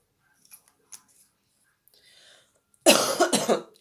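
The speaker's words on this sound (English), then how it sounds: "I'm still suffering with a cough at the moment." A single sharp cough bursts out close to the microphone after a few quiet clicks and rustles.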